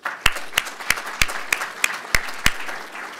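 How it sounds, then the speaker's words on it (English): Applause from an audience at a 2018 Three Minute Thesis competition, heard as a slow, evenly spaced run of about eight sharp, distinct claps with no talk. "they really do deserve a round of applause"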